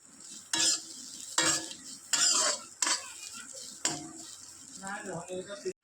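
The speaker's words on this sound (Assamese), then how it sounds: "এয়া ভাজি অকণমান কৰোঁ ড্ৰাই ভাজি অকণমান কৰোঁ" Chickpeas, soybeans, ginger, garlic, onion and green chili are dry-fried in a pan, heard as several sharp bursts of stirring and scraping over a light sizzle.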